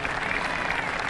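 Crowd applause around the 18th green at the 2007 Jamie Farr Owens Corning Classic golf final round, greeting Morgan Pressel; a dense, steady wash of clapping from a large gallery, continuous throughout.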